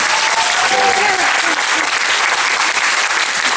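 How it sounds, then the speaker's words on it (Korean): A theatre audience at a stage musical's special curtain call breaks into loud, sustained applause, a thick unbroken roar of clapping with a few voices cheering faintly inside it. "큰 박수 한번 주세요"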